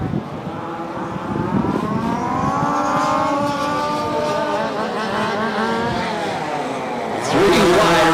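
Race cars running around a track, loud engines droning and shifting pitch as they pass close, a sustained roar building through the clip with a sharper surge near the end, no speech.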